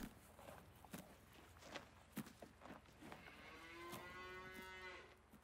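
Cows mooing in Farming Simulator 19, a long drawn-out bovine moo rising over a barn backdrop, preceded by scattered hoof thuds and steps at a moderate distance.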